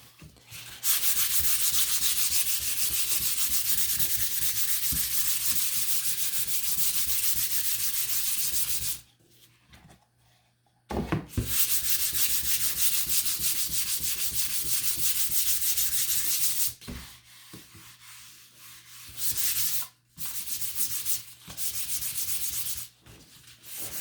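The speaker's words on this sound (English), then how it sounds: "I'm going to sand my sign base" Sustained sanding of a wooden sign base gives a steady, loud rasping hiss. It breaks off twice for brief pauses and then returns in shorter stretches, with no talking over it.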